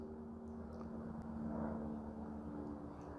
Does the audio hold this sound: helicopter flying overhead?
yes